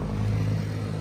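A Kawasaki HD3 motorcycle tricycle with a tune pipe exhaust runs nearby, a steady low engine drone with a faint rasp, fairly quiet and without talk.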